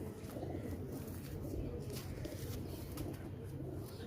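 Low, steady pigeon cooing from an old pigeon in Lahore fills the clip, a continuous murmur of coos with faint chirps above, close by and without speech.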